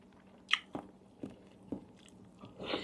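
Spicy glass noodle salad with squid is chewed close to the mouth, with a crisp bite followed by several soft, rhythmic chewing squishes and a louder wet rustle at the end.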